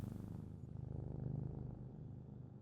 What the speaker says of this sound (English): His little purrs are unusually comforting